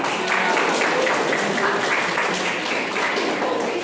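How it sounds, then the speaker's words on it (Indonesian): A classroom of students breaks into steady applause, with dense, continuous clapping for several seconds and a faint voice mixed in. "pintar, tepuk tangan."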